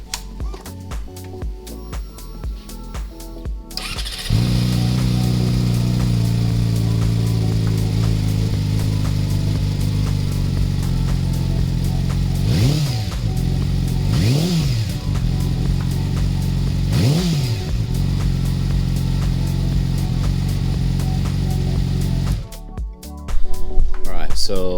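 A 2016 Yamaha YZF-R6 fitted with a K&N air filter fires up after a few seconds, settles into a loud steady idle and is blipped three times with rising and falling revs before cutting off, with speech mixed in.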